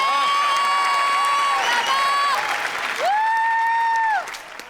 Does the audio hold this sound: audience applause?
yes